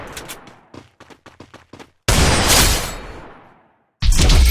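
Gunfire from a video game headshot replay: a short run of sharp shots at first, then a loud sustained blast-like burst that decays, followed by another abrupt loud burst.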